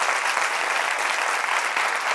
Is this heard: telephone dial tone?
no